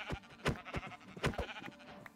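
Minecraft sheep bleat several times in quick succession, short nasal calls close up and clear with no talk over them.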